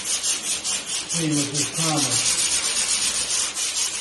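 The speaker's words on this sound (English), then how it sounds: "Do a little more sanding." Hand sanding of primer on the body of a 1973 Dodge Charger: close, rhythmic rasping strokes repeat in a steady back-and-forth pattern, with someone speaking briefly over them.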